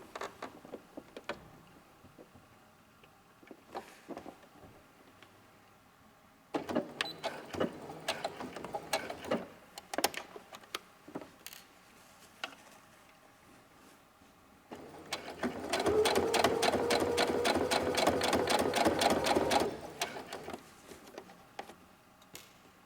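A sewing machine runs a straight stitch on a scrunchie, with intermittent short bursts and clicks, then a louder, sustained whirring run of several seconds near the end before it stops.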